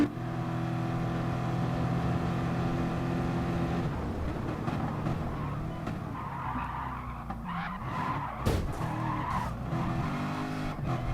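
A GT race car in Gran Turismo Sport at the Red Bull Ring holds a steady engine drone, then breaks into a loud, sustained tire skid and spin with scrabbling, fluttering noise for several seconds.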